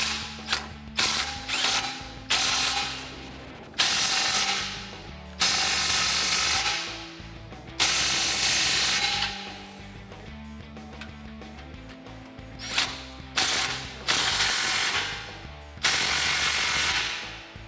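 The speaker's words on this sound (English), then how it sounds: "I'll use my 15mm socket on an impact gun" An impact gun with a 15mm socket snugs the exhaust clamps on a 2015-2020 Ford F-150 3.5L EcoBoost, firing in repeated short loud rattling bursts of one to two seconds, separated by brief pauses, close up with no talking.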